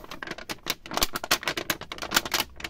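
Vellum paper being crinkled and handled up close, a quick series of crisp rustling crackles in an uneven rhythm.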